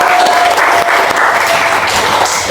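An audience at an academic podcast session claps steadily and loudly throughout, dense applause with no voices standing out.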